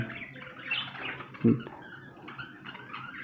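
Pet birds, two pairs kept at home, give scattered light chirps and tweets with some rustling and a brief louder flutter or knock midway, all at a fairly close, moderate level.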